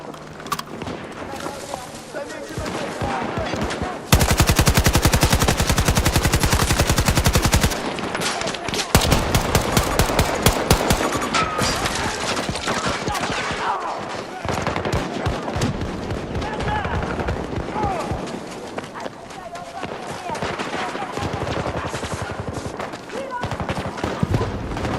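Rapid bursts of automatic weapon fire in the shooter game Battlefield 2042, loud and near, running almost the whole time with short pauses and heavy barrages, and a voice talking over the shooting.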